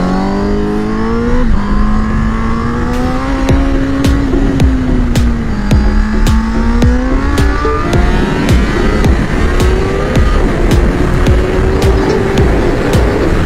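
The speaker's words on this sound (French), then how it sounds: "Et c'est pas faute de l'avoir emmené sur piste cette moto." A motorcycle on a race track revs loudly and nearby, its engine pitch climbing and dropping through repeated gear changes, with sharp clicks ticking over the continuous roar.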